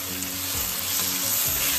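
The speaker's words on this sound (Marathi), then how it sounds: "पात आपण व्यवस्थित मिक्स करून घेऊया।" Spring onion greens being stirred into Khandeshi eggplant bharit in a hot pan, a steady loud sizzle of frying with faint scraping strokes underneath, close and continuous, no one speaking.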